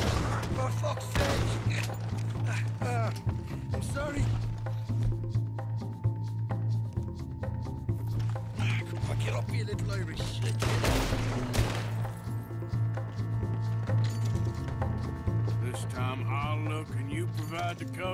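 Gunfire rattles through a Red Dead Redemption 2 game scene in repeated bursts and single cracks over a steady droning tone, with some louder volleys toward the middle and near the end.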